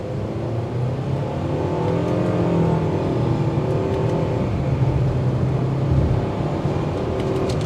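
A 2023 Mitsubishi Outlander SEL accelerates in a 0 to 60 run, its engine note rising steadily under heavy road and tyre noise, moderately loud and heard from inside the cabin.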